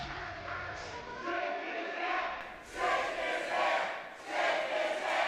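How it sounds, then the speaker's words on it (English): A large wrestling match crowd roars and cheers in waves, swelling loudly twice, with no talking over it. "And this crowd really wants that sign of respect."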